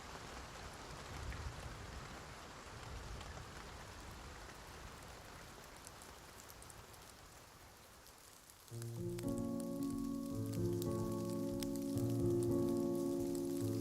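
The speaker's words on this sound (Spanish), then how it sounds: "La lluvia de ayer aún no se detenía, pero para mi suerte se había calmado un poco" A soft, steady rain hisses evenly for several seconds before music takes over and covers it.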